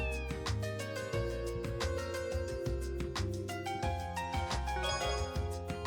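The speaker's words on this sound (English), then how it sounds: "took the frail kitten in his arms and gently placed her inside his jacket" A kitten meows repeatedly in the video game Trails from Zero, soft cries rising over steady, loud game music with a rhythmic beat.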